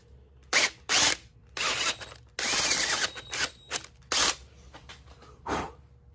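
A hand drill grinds into an oil passage hole in a 351 Cleveland engine block, running in short repeated bursts with pauses between, close and fairly loud.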